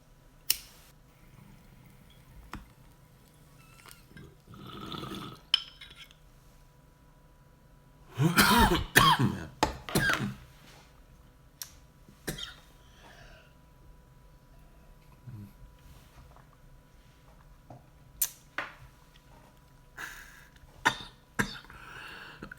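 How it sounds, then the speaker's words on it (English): A man coughs indoors, a heavy cluster of rough hacking coughs in the middle surrounded by scattered single coughs, throat clearing and small clicks across a quiet room. "I'd love to be talking, but I'm too busy coughing."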